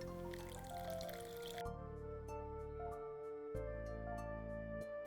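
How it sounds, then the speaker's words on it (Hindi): About a cup of water goes into a thickened white sauce on a stove, heard as faint dripping and splashing liquid sounds, quiet and close, with no talking. "अब मैं इसमें डालूंगी पानी। पानी में डाल रही हूँ तकरीबन 1 कप।"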